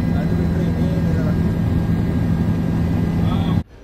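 Inside a five-seat helicopter taxi in flight over Bengaluru, a loud, steady engine and rotor roar fills the cabin without letup, ending abruptly near the close.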